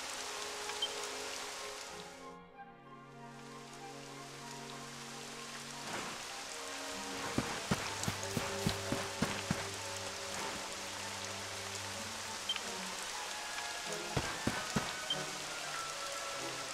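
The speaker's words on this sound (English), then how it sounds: "It would have to go and start raining, wouldn't it?" Rain falls in the video game Dragon Quest XI S, a steady soft patter under sustained in-game music tones, with faint scattered clicks and no speech.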